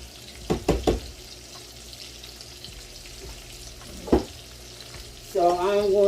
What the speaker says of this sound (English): So I'm going to stir that up